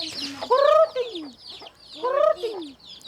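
A grandfather on a farm imitates a chicken's crow with his voice, two drawn-out rising-falling calls, close and fairly loud, with a little background noise between them.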